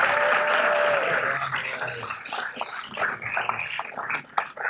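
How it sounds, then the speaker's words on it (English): Applause fills a city council meeting for a group being honored, a dense clapping wash that is loudest at first and then thins into scattered claps and room noise. "one more round of applause for this whole group"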